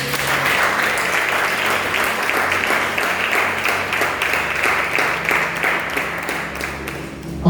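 Steady applause from an audience acclaiming Jesus Christ at a religious gathering, dense continuous clapping at even loudness throughout, with no voices on top.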